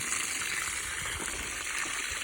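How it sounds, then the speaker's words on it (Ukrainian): A bucket of water mixed with potassium fertilizer is poured onto grapevine roots in the soil, giving a steady, close gushing splash that holds evenly throughout, with no voices. "Відро сюди плюс-мінус води влив і хай воно собі прямує туди суто все під корінь"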